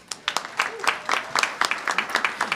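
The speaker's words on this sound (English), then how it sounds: "we're going to give him a big round of applause" Audience applause for a state senator at an education funding celebration, a burst of sharp individual claps from a modest crowd, fairly close and steady throughout with no talking.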